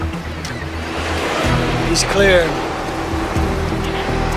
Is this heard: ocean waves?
yes